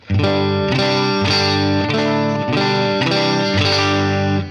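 A clean electric guitar plays ringing chords through a Line 6 Helix multi-effects unit, each strum sustaining with a shimmering, slightly chorused tone; no talking.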